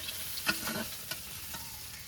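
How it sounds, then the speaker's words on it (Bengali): Bata fish fry in a pan with a soft, steady sizzle, faint and close, joined by a couple of light stirring clicks and no speech. "মাছগুলো একটু ভাজা হতে থাকবে।"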